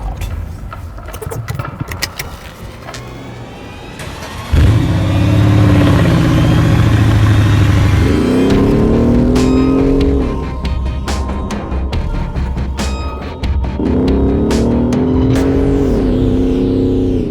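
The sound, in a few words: Mercedes-Benz GLE 63 AMG biturbo V8 engine revving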